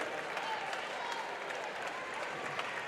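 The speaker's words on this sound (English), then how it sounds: "And the crowd get him a standing ovation, a well-deserved standing ovation as Sloan makes the first free throw." A crowd at a boys' high school basketball region semifinal gives a standing ovation, steady dense applause with scattered cheers filling the gym for the full stretch, close and sustained without letting up.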